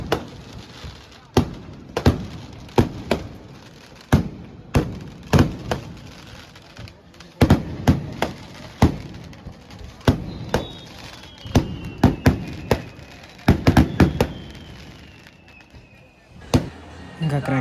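Fireworks and firecrackers burst during a Dasara festival in Proddatur, Andhra Pradesh, sharp loud bangs in an irregular rapid series with a whistling rocket streak, while people talk nearby.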